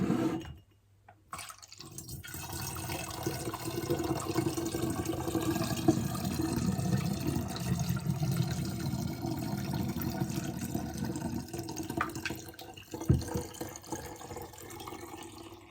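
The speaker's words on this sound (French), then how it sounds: "Et je verse ma limonade dedans." Homemade sparkling lemonade poured into a container, a continuous close splashing and trickling of liquid that runs for many seconds before easing off.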